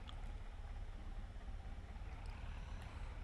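A tractor engine in the video game Farming Simulator 22 drones as a steady, low, rumbling engine sound that stays even throughout, with no voices.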